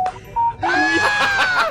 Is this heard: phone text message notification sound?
yes